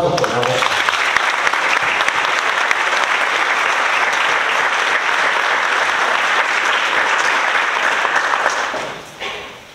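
An audience claps at a diploma ceremony of the Instituto Politécnico Nacional, with loud, dense applause that holds steady for about nine seconds before it tapers off.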